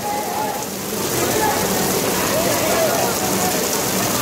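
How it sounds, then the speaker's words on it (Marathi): Heavy rain pours steadily during a crowded Krishna Janmashtami dahi handi celebration, a dense, even hiss of water that stays loud and close throughout, with some faint crowd noise underneath. "पाऊस खूप जास्त आहे"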